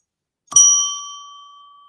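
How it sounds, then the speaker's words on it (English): A single strike of a small new bell, bright and close, its clear ring fading slowly over more than a second with no other sound around it. "I have a new bell."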